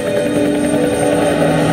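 Steady mechanical drone of a helicopter in Ultimate Spider-Man on PC, with thrumming rotor texture, loud and close, with no talking.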